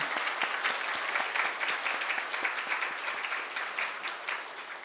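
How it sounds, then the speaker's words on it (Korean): A church congregation applauds during a Sunday worship service to welcome returning members, with steady, dense clapping that fills the room and continues without a break. "우리 박수로 환영하겠습니다"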